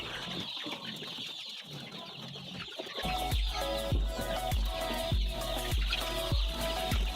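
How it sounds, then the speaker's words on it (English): Day-15 layer chicks on a farm make a continuous high peeping chorus, joined partway through by a steady, regular low thumping in the background. "These are day 15 chicks."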